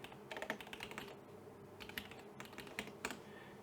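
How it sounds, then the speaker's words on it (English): Quiet, steady typing on a computer keyboard, irregular key clicks tapping along for a few seconds with no talking. "If I type it in manually,"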